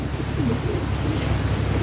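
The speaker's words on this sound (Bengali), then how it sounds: "লক্ষা কবুতর এটা অবশ্য মাদি আর ওটা হচ্ছে নর" A male and female pair of fancy Lakkha pigeons coo inside a loft, close and loud, low throaty rolls mixed with a few brief high chirps.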